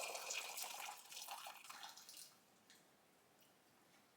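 Boiled water is poured into a saucepan in a kitchen while making kombucha, a soft steady splashing pour for about two seconds that then fades to quiet, faint and with no talking.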